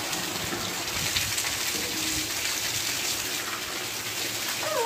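Continuous splashing and gushing rainwater flows steadily, pouring and running, with a faint distant voice near the end.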